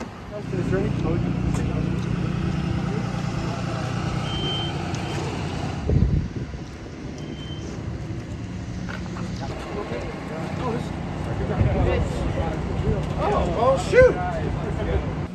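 A bus backs up while supplies are loaded, its reversing alarm beeping in a repeated pattern over a continuous engine rumble, with people talking and some clattering nearby.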